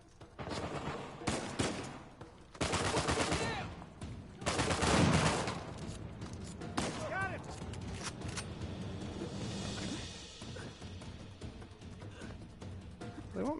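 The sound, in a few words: gunfire shooting barrels in a first-person shooter video game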